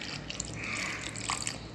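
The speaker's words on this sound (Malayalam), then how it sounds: "കുറച്ച് വെള്ളം ഒഴിച്ചു കൊടുക്കാം." A small splash of water is poured into a mixer jar holding grated coconut and curd for papaya pachadi paste: a faint, brief trickle and drip, heard alone with no talking.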